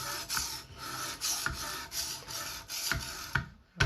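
A chef knife is sharpened on an Edge Pro Apex guided sharpening system, producing a close series of gritty, rasping stone strokes with a few sharper knocks between passes and no talking.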